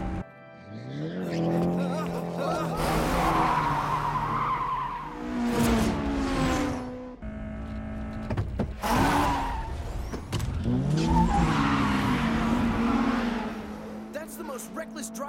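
Cars in an anime downhill race screech through tight corners, loud tire squeals and skidding over roaring engines in repeated bursts, with voices talking between the slides.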